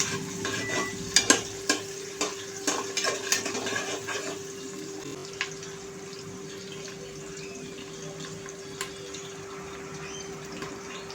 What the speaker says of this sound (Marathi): त्यानंतर उभा चिरलेला कांदा. कांदा आपल्याला छान असा लालसर करून घ्यायचा आहे.